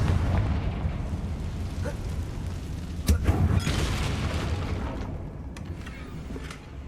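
Confringo blasting spell going off in the Hogwarts Legacy game, a steady low rumbling roar with a sharper burst and crackle about three seconds in, then slowly fading, no talk.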